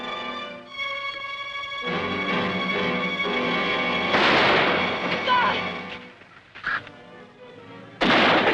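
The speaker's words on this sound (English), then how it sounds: "Wait for McCain to fire." Gunshots ring out in a 1957 western film set in old California, a few sharp reports over swelling orchestral music and scattered voices.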